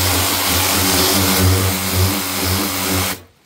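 A cordless pressure car washer runs at its low-speed setting with a steady, loud motor hum and pulsing drone that cuts off abruptly near the end, with no one speaking.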